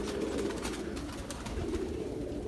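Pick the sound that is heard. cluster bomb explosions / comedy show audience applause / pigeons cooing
pigeons cooing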